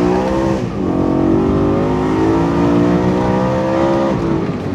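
A BMW E90 M3 with a 4-litre V8 and dual-clutch gearbox revs hard while driving, its loud, steady engine note rising and falling in pitch for several seconds without any voices.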